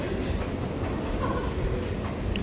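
A Brussels metro train rumbles steadily underground, a continuous loud roar of wheels and carriage noise with no breaks.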